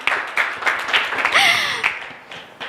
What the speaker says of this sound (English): Clap about that before I continue